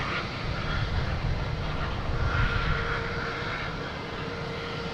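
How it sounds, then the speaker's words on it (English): A United Airlines Boeing 757 arriving at Boston Logan from San Francisco produces a steady, moderately distant engine rumble and whine that holds evenly throughout, with no talk. "This is United Airlines 757 that came in from San Francisco."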